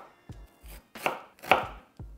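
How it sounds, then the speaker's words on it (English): A knife slices fresh ginger into strips on a cutting board, giving about six crisp, evenly spaced chops with a low board thud under each. The cuts are close and sharp, and no one speaks. "First, slice the ginger."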